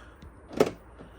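A single brief mechanical clunk from the door lock of an Opel Zafira B as it is locked with the key, a short thud-and-whirr near the door with quiet surroundings before and after.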